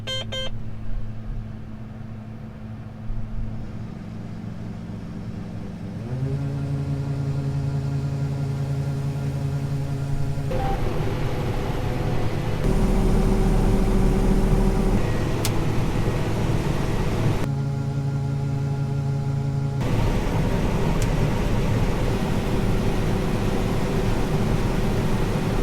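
A combine harvester runs in a field during harvest, its engine a loud, steady drone with shifting mechanical tones and occasional changes in pitch, with no talking.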